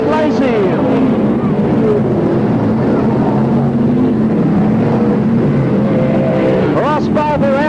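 Sprint cars race at PCR speedway in the 1983/84 season, their engines roaring loudly and continuously with rising and falling pitch as cars pass, under steady race commentary.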